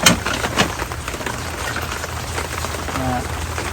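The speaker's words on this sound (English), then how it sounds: "It's raining, so it'll help to clear itself up faster." Rain falls steadily outdoors as a wide, continuous hiss during work on a Ford Powerstroke diesel, with a couple of louder knocks near the start.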